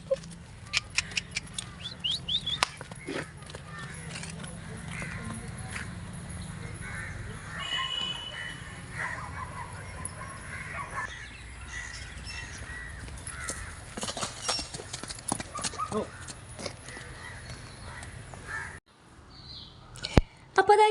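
Irregular clip-clop of horse hooves on the ground outdoors, with crows cawing now and then in the background.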